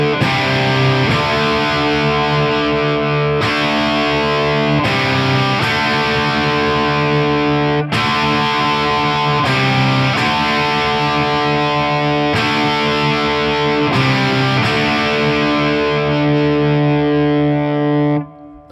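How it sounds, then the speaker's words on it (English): An electric guitar played on the bridge pickup through an Analog Man Blues Driver overdrive pedal, loud driven chords struck in a steady sequence with brief gaps between them, ringing out until a sudden stop at the end. "Now I'm going to turn my blues driver on. This is the Analog Man one"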